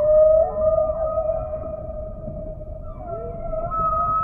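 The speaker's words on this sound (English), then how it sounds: "The whales in different oceans have different songs." Humpback-style whale song from the South Pacific, long sustained tonal moans with slow upward and downward sweeps, loud and clear against a low underwater rumble, no voices.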